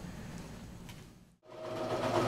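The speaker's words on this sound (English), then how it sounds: "sewing 2x4s together" A sewing machine stitches 2x4 quilt pieces together, a steady close mechanical whir that stops for a moment and then resumes louder.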